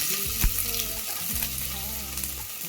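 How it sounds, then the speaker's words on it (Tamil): Mustard seeds and urad dal tempering in hot oil for a Kongu-style arisi paruppu sadam, a steady close sizzle and crackle with sharp pops and spattering bursts throughout, no voices. "கடுகு உளுத்தம் பருப்பு போட்டு தாளிச்சுக்கலாம்."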